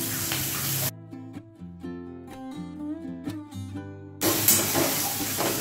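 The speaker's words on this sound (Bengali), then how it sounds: "দিয়ে দিচ্ছি একটা মাঝারি সাইজের পেঁয়াজ কুচি" Chopped medium onion frying over low heat with black cumin in a pan, loud sizzling hiss at the start and end broken by a stretch of tonal music in between.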